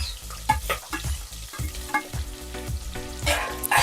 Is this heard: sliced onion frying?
yes